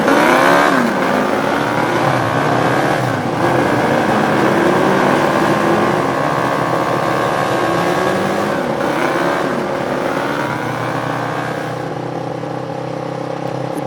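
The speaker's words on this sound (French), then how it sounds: "Les virages couchent les motos. Ah, les moteurs rugissent." Motorcycle engines roar steadily and loudly through a live stage performance, a continuous dense drone with shifting pitch sweeps as the bikes accelerate, sustained for the whole stretch without speech.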